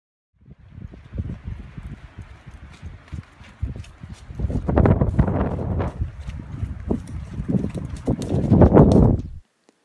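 A horse's hooves strike the ground in a steady walking rhythm right after a leg flexion test, close and fairly loud, with the footfalls growing heavier and denser toward the end.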